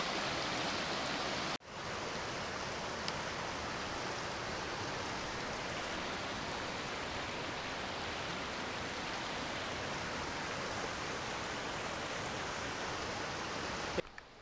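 Steady rushing water of Red Creek, a crimson-tinted mountain stream in the Dolly Sods backcountry, flowing continuously and fairly loud with no talk, broken only by a brief dip near the start.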